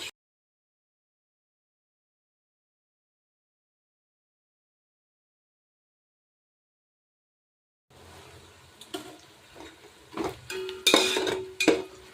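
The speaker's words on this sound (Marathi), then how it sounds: "कांद्याला असं मध्ये मध्ये हलवत राहायचं आहे म्हणजे कांदा जळत नाही." After a long stretch of silence, onions frying in a pan are stirred, with rattling utensil scrapes and clinks against the pan in the last few seconds, growing louder toward the end.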